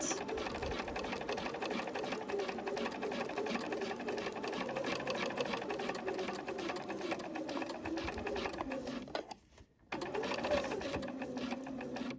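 A sewing machine stitches a garment facing and back together with a 5 mm seam, running at a steady, rapid whir. It briefly stops near the end, then resumes.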